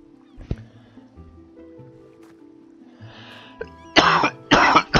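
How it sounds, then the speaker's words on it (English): A game character in Oceanhorn: Monster of Uncharted Seas coughs from chest dust, two loud, close, rough cough bursts at the end after quieter in-game sounds. "A lot of dust in that chest made me cough."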